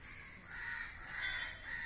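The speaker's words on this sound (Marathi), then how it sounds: "कावळ्यांचा आवाज," Crows caw outdoors on a sunny morning, a few harsh calls at moderate distance blending into one another with no one talking.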